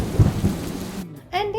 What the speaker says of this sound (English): It rained heavily yesterday night and even this morning it hasn't stopped.